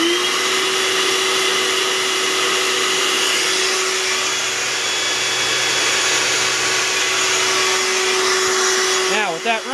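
A small mini shop vac runs with a loud, steady whining drone close by, holding constant before it winds down at the end.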